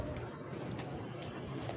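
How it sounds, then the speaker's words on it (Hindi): Pigeon cooing at a rural home on an overcast day, a soft, low continuous murmur over steady background noise throughout. "ये कबूतर"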